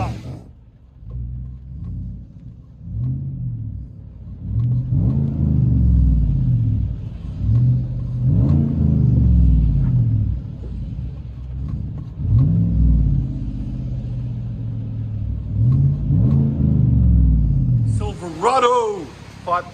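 A deep Chevy/GMC 5.3-liter V8 pickup engine rumble with an aftermarket exhaust, heard from inside the cab, rising and falling in repeated revs, with a voice talking briefly near the end.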